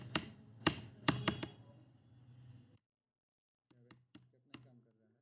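Several sharp, close key presses on a computer keyboard while setting up printing, in two short clusters with a quiet pause between them and a voice talking underneath.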